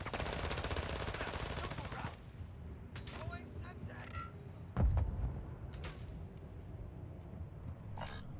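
Gunfire in the DMZ mode of a shooter game: a dense rattle of automatic fire at first, then scattered single shots and one heavier thump, moderately faint, with game voice lines in between.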